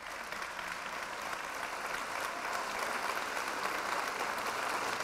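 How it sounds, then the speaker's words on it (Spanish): Steady audience applause welcoming the rector of the Universidad Nacional Autónoma de México at a public academic event, continuous clapping from a sizable crowd heard at moderate distance. "Un aplauso, por favor."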